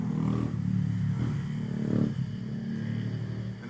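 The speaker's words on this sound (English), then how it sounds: "Someone with the motorbikes." Motorbikes pass by, a rough engine drone that swells and fades, with some clatter mixed in.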